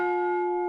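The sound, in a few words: bell tolling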